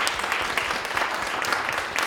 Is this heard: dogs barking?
no